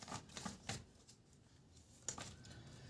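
Tarot cards are shuffled by hand in a few soft, brief riffling bursts, quiet and close, separated by near-silent gaps.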